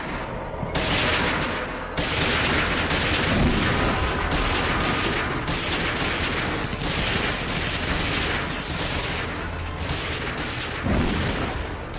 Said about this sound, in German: Schüsse peitschen.